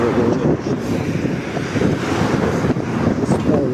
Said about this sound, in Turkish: İki gün önceki o yağmurdaki kadar yok ama esiyor rüzgarı.